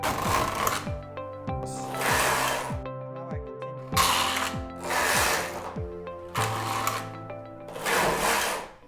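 A Knittax knitting machine carriage works stocking stitch for a baby sweater, sweeping back and forth in repeated loud mechanical passes with rattling needle clicks and short pauses between rows, close and alone.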